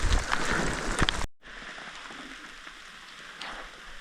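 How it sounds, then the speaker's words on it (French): Rain shower falling on vegetation and spruce saplings outdoors, a loud dense hiss of drops up close that cuts out abruptly, then continues as a softer steady patter. "Je me fais pogner par un averse."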